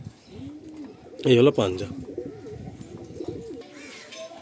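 Pigeons, Fulsira Madrasi birds offered for sale, coo low and throaty, with a louder burst in the middle and softer coos continuing while someone talks nearby.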